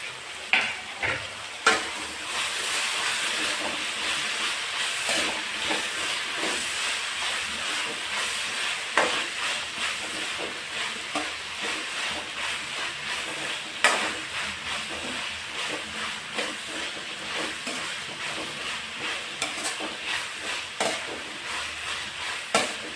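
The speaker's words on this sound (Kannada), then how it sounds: "ಹಾಕಿ ಅದನ್ನು ಚೆನ್ನಾಗಿ ಫ್ರೈ ಮಾಡೋಣ" Two chopped medium tomatoes fry in a pan for uppittu, giving a steady soft sizzle broken by repeated scraping stirs and occasional sharp clicks of a spoon on the pan.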